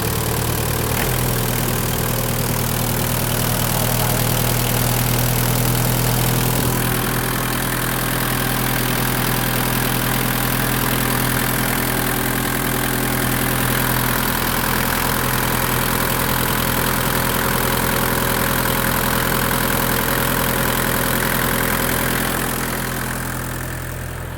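A Big M BD25 engine idles steadily and loudly for the whole stretch, a low rumbling hum with an even tone that fades slightly near the end.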